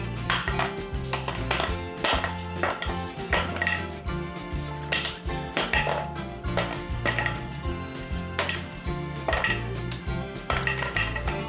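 Repeated sharp knife strikes chopping a coconut into small pieces on a board, irregular thuds and clacks close by, with a steady low hum underneath.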